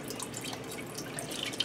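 Chicken broth is poured into an Instant Pot pressure cooker as a steady, close liquid splash and trickle lasting under two seconds, with no talking.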